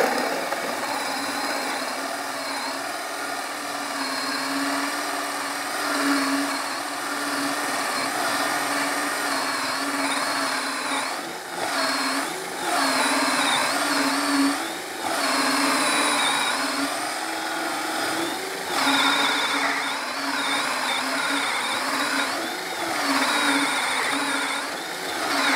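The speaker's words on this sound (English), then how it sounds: "Now for the 2-inch hole saw." A Ryobi ONE+ HP 18V brushless cordless compact 3/8 in. right angle drill bores with a 2-inch hole saw, giving a steady, close motor whine under load with small dips as pressure changes. No one talks over it.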